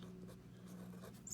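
Quiet, steady scratching of a pen or pencil writing on a paper page for a science binder, faint and continuous under a low room hum.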